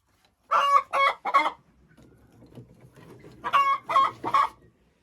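Backyard hens, including a crested Dominant Czech flock, give two loud bursts of three strong squawking calls each, close by, separated by a lull of soft, low clucking.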